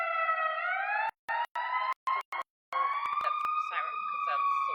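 A loud wailing siren from a passing emergency vehicle during protests and a curfew in Kenosha, its harmonic tones sweeping continuously and broken by several sharp dropouts midway, with no speech over it.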